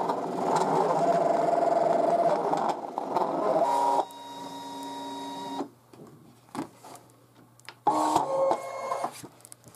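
An electronic cutting machine works on paper circles, whirring and buzzing loudly up close as its carriage moves, shifting pitch between passes and stopping and starting in short bursts.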